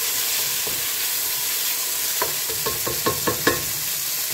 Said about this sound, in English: Can hear it sizzling in that.